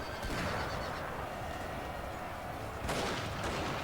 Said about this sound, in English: cavalry charge into the rear of these two units